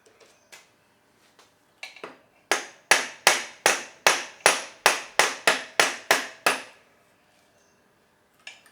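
A Yamaha XV1000 Midnight Special starter motor being tapped out of the engine, a run of about a dozen sharp metallic hammer knocks in quick, even rhythm after a few scattered lighter taps, close and loud, no talk.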